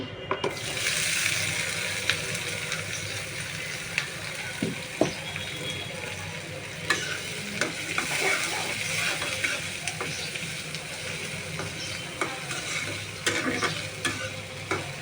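Onions fry in hot oil in a pan while a fish dish is being cooked, giving a continuous bright sizzle with repeated stirring knocks and scrapes, heard close, with faint talking in the background.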